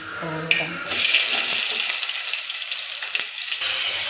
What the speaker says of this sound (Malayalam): അപ്പോൾ നമുക്കേക്ക് ഉള്ളി ആഡ് ചെയ്യാം